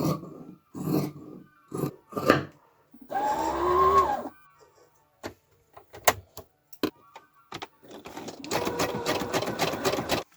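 A sewing machine stitching a folded T-shirt band, its motor whirring in short runs and one longer burst, separated by pauses with fabric handling and small clicks, close and fairly loud.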